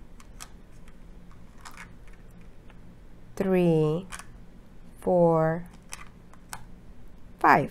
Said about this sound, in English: I put the 10 frame and I'm using this little plastic acorns and we're going to put 5